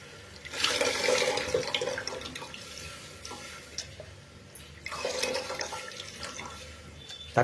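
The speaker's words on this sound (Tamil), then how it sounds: "இப்போ ரசத்தை அந்த புளிஞ்சு வச்சு சாறு ஊற்றுறோம்" Strained tamarind juice is poured into a pot of tomato sambar, giving a close, soft, splashing liquid pour in two surges with a quieter, trickling stretch between them.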